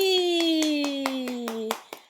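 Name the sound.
hand clapping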